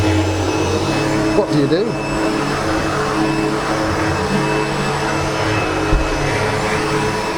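A SEBO Automatic X7 Boost ePower upright vacuum cleaner runs with a steady, loud, broadband whir that holds throughout, while a person speaks briefly over it.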